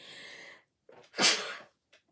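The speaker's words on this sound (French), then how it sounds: "Oh, un petit éternuement." A single sharp sneeze, preceded by a short breath in, in an otherwise quiet room.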